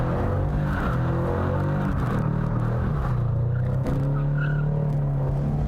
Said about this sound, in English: get this thing to drift.